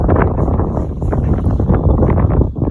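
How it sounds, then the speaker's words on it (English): Wind blows hard against the microphone outdoors on a frozen lake while ice fishing, a close, rumbling buffeting that pulses in uneven gusts throughout. "It's getting a little windy out here."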